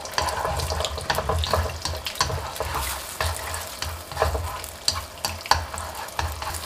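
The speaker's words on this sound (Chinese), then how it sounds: "起锅放油，油热之后放入打好的蛋液" Beaten egg scrambled quickly in hot oil in a wok, an even frying sizzle broken by rapid scraping and clacking spatula strokes, close with no talking.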